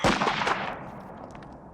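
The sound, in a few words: gunshot in the film Total Recall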